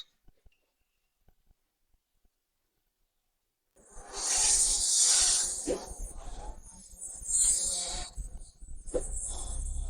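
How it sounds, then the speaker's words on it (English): A sand snake hisses in a battle scene: after nearly four seconds of silence, a loud, rough, sustained hiss rises and surges over low rumbling, with no talking. "this sand snake is so troublesome"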